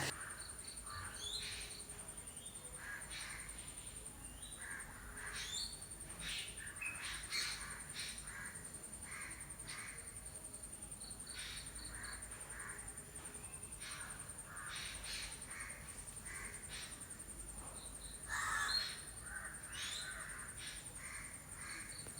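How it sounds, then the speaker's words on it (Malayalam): Crows caw repeatedly over a quiet outdoor backdrop while smaller birds chirp and tweet in between, fairly faint and distant. "നല്ല കിളികളുടെ ശബ്ദമൊക്കെ ഇട്ട്"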